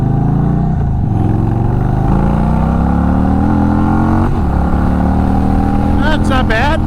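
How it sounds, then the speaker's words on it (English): An Indian Sport Chief V-twin motorcycle fitted with a 2-into-1 exhaust runs nearby with a loud, steady throbbing idle that rises gradually in pitch, with a brief voice near the end. "A 2-into-1 exhaust is the best way to go on a V-twin engine"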